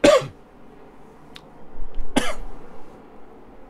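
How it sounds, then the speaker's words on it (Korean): A couple of short, sharp coughs spaced apart, close by, with a faint murmur between them. "기침이 나와가지고"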